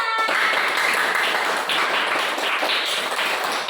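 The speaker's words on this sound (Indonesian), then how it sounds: "Tepuk tangan untuk kelompok 2." A classroom full of students claps for a student group, dense, loud, continuous applause filling the room from start to finish with no talking over it.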